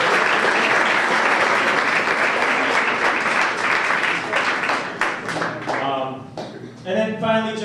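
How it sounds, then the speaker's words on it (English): A crowd claps steadily in sustained applause at a school banquet, thinning out toward the end, when a voice begins speaking. "let's give them all a round of applause."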